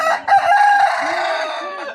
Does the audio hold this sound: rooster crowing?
yes